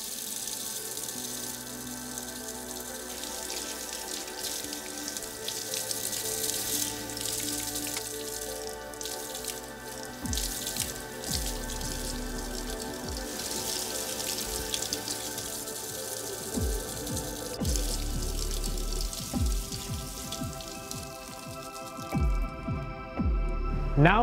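Water runs steadily from a tap at a mosque washing station during wudu, splashing and dripping as hands, face and feet are rinsed. The sound is close and continuous, with irregular splashes and drips.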